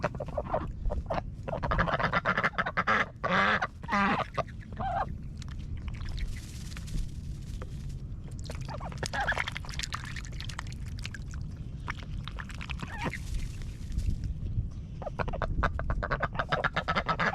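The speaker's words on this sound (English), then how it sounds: "I'm starting to love having these ducks in this cage though" Caged ducks quack repeatedly at close range, bursts of harsh nasal calls overlapping in clusters, loud and busy over a steady outdoor background.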